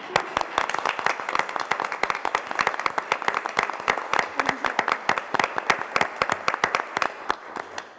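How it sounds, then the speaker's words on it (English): An audience at a Board of Education meeting applauds a Murfreesboro City Hall of Fame inductee, with sharp, dense hand claps continuing steadily for the whole stretch, moderately close and fairly loud. "would you please stand up so we can give you a round of applause?"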